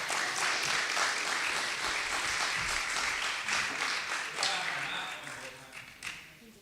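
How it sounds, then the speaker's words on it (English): Church audience applauding singers at Trinity Lutheran Church of Delta, a dense steady wash of clapping that fills the room, then thins and fades toward the end. "So if you just want to give them a round of applause,"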